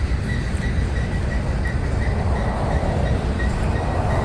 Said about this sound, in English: The Norfolk Southern domestic containers coming up.